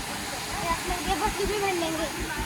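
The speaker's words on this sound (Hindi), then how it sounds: "यहाँ भी एक झरना आता है, स्प्रिंग वाटर है आगे" Spring water pours steadily down Pandav Falls near Khajuraho in Panna, Madhya Pradesh, making a loud, continuous broadband rush, with a voice faintly audible over it.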